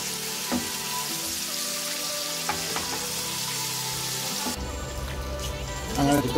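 Chicken frying in a pan in country style, a loud continuous close sizzle and crackle with a shift partway through as the pan is stirred or moved.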